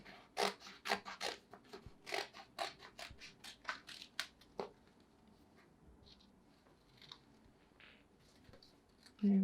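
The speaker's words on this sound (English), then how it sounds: "I'm going to generate the bunch of bananas using only a pair of scissors and this sticky paper" Scissors snipping through sticky paper while cutting out a banana bunch shape, a quick run of crisp close cuts that thins into sparse faint snips, ending in a short louder rustle.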